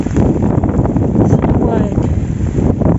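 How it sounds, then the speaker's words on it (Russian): Strong autumn wind on a rainy November day in Moscow, buffeting the microphone as a steady, loud, rumbling roar with gusty fluctuations throughout, close and unbroken. "Какой ветер"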